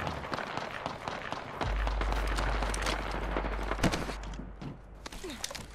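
Game gunfire in a sci-fi shooter, with rapid broadband shots and impacts crackling around a character who is taking fire, over a steady low rumble, dense and continuous throughout.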